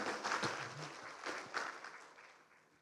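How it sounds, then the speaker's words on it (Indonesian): Audience of junior high school teachers at a training session in Jakarta breaks into warm applause, a dense patter of many hands clapping at once that slowly fades over about three seconds. "Jadi tepuk tangan untuk Anda semua."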